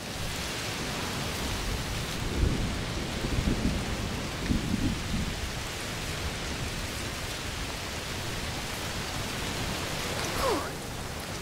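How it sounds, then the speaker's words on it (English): Thunderstorm in the video game A Plague Tale: Requiem, steady heavy rain with low rumbles of thunder around two to five seconds and another soft roll near the end, continuous and enveloping with no talking. "Must be a heat storm."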